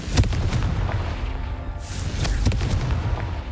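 A Confringo fire spell in Hogwarts Legacy bursts in a series of heavy, booming explosions over a dense, constant rumble of game combat, with several sharp blasts striking in quick succession.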